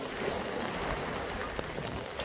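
Rain falls steadily at Jukdo Park, a seaside park in Songjeong, a continuous close hiss and patter of drops with no voices.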